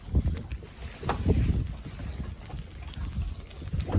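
Gusty wind buffets the microphone in low rumbling bursts on a boat on a river, steady throughout with no voices, like standing exposed near open water.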